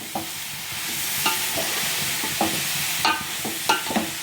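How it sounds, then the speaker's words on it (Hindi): Grated carrots being stirred and fried in ghee in a flat pan for gajar ka halwa, a steady close sizzle broken by occasional scraping stirs of the spoon, with no talking. "तो गाजर को अब मिक्स कर दीजिए।"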